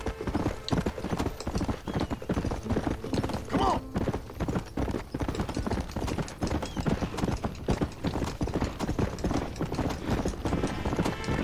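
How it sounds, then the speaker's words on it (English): A horse gallops in the video game Red Dead Redemption, producing a rapid, steady clip-clop of hooves that continues throughout at moderate loudness. "This horse has like so much stamina."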